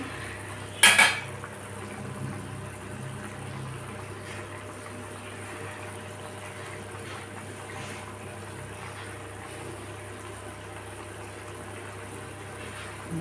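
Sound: pot and utensils while cooking mustard fish curry

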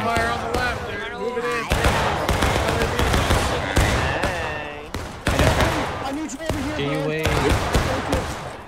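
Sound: gunfire from the left during an airsoft game

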